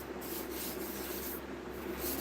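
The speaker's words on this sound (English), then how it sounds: "then you do your final sanding" Close, steady rubbing hiss of hand sanding on wooden cutting boards during the final sanding pass, faint and continuous with slight rhythmic strokes and no talk.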